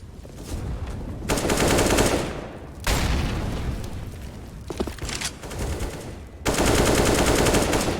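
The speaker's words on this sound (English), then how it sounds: "As we see shots ring out" Rapid gunfire bursts in CS:GO, loud automatic volleys coming in several long runs separated by short gaps, with a few single shots in between.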